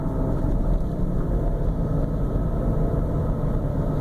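Steady low rumble of a 2005 Ford Freestyle's engine or transmission while driving down the road, heard from inside the cabin as a continuous droning hum with a faint fluttering texture.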